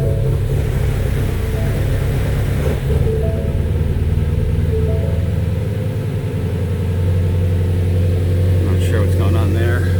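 A Ford Mustang GT350's engine runs roughly after a nitrous install, a loud, steady low rumble that goes on without a break and swells slightly partway through.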